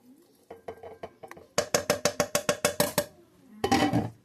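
Baby lima beans, undrained, are dumped into a crock pot, heard as a quick series of sharp metallic clinks and scrapes of a spoon against a can, ending in a brief wet slide and splash, close and without talk.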